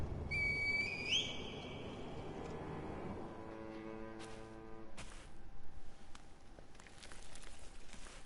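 Reed whistle blown in the video game Sekiro, a high, wavering whistle tone near the start over a soft ambient bed, followed by sustained tonal game effects and scattered light impacts.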